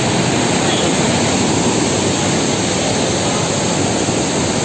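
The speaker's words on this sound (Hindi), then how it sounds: "46 नंबर ढोका का पास में हमरा का देखियो कि पानी का प्रेस है कि ये कोसी बैराज के छिया है" Water roars steadily through gate number 46 of the Kosi Barrage, a loud, unbroken broadband rush close by with no pauses or other distinct sounds.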